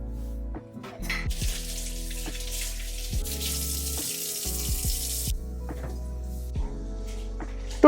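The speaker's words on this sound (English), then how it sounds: "Rinse the bottles thoroughly with hot water and let them air dry." Hot water runs from a kitchen tap while bottles are rinsed, a steady hiss of flowing water with small knocks and splashes as the glass is handled, close and continuous.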